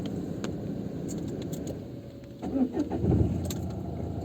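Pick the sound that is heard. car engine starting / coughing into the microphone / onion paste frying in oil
car engine starting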